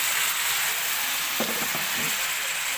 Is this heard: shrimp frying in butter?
yes